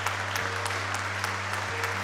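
A large audience gives the finale of a Georgian dance show warm, steady applause, dense and continuous with no break, and a low constant hum runs under it.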